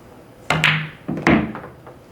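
A pool cue strikes the balls during a billiards lesson: two sharp clacks, each followed by a softer knock as balls collide, close and fairly loud with no talk.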